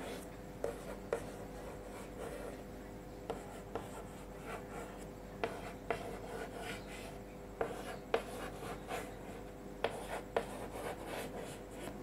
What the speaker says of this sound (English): so we will write over here or draw over here one more flower in